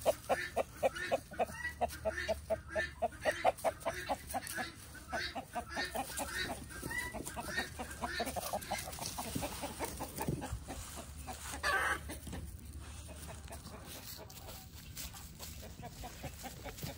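Roosters crowing and clucking on a farm, a steady run of repeated calls in the first few seconds, then busier overlapping fowl noise that continues to the end, fairly close.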